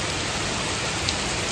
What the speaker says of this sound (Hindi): लेकिन बारिश ना बहुत तेज़ है, बहुत ही ज़्यादा तेज़ है।